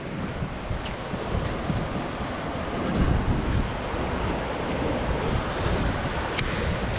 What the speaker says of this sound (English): the south wind at the tail is what's getting us right now